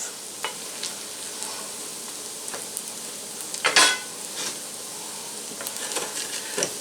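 A cheese omelette for a Western omelette being folded in a pan, a soft quiet sizzle punctuated by a few light scrapes and one louder spatula clatter midway.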